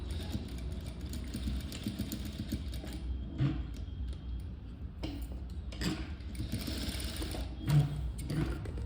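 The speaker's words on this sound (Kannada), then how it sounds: "ಫುಲ್ ಇದೇ ಥರ ಸೇಮ್ ಸ್ಟಿಚ್ಚನ್ನು ಹಾಕ್ಕೊಳ್ಳಿ." A sewing machine stitching the side seam of a blouse runs as a steady, close mechanical whir with a fast needle patter and brief slowdowns, with no talk over it.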